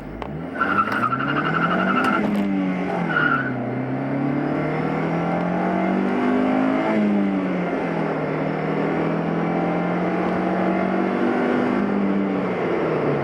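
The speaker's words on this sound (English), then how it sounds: "just press on the gas. It goes forward." A Honda Civic SiR EP3 hatchback on winter tires accelerates hard, with engine revs rising through gear shifts and a brief tire squeal near the start, loud and from inside the car, with no talking.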